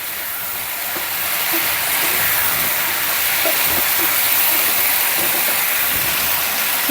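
Vegetables with onion and garlic fry and sizzle steadily in a pan, a loud continuous hiss with faint scraping as they are stirred, no voices.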